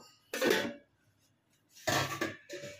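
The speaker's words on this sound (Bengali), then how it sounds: "2-3 মিনিট পরে ঢাকনাটা খুলে দিলাম।" The lid comes off a cooking pot of Bombay duck (loitta fish) curry, with two short, quiet metallic clatters of lid against pot separated by a pause.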